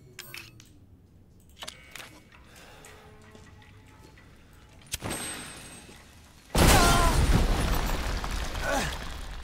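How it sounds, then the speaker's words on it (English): A pipe bomb goes off in the video game Resident Evil Village: a few small thuds and a sharp crack, then a sudden loud, sustained blast with a rumbling, crackling tail that fills the rest of the moment. "Throw the pipe bomb on the wall."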